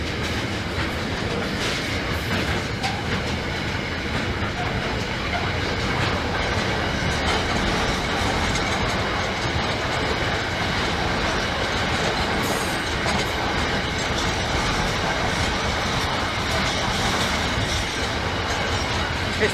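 A Great British Rail Freight train rolling past the Great Northern Terrace level crossing, loud and close, a continuous heavy rumble with rhythmic clickety-clack of wheels and occasional faint squeals, steady throughout with no voices.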